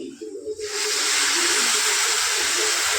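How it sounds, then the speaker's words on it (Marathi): Hot water poured into a hot pan of roasted wheat for lapsi, bursting into a loud, steady hiss of steam after a brief pour that carries on without pause. "आता मी आधीच गरम पाणी करून ठेवलं होतं, ते गरम पाणी त्यात घालते"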